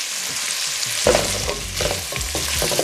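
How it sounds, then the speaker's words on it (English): Carrots and daikon are stir-fried in oil with browned pork for a Japanese pork soup, a continuous sizzle punctuated by several scraping, clattering stirs of a utensil against the pan, close and fairly loud. "then go the carrots and the daikon. Okay, stir fry those"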